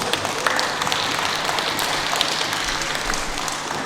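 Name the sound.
audience applause for the judges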